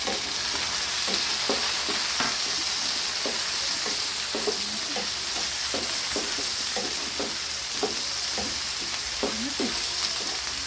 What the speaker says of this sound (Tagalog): pag nagigisa ako ng adobong pusit, nilalagyan ko ng kamatis